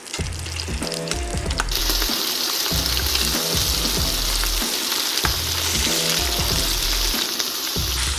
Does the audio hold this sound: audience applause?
no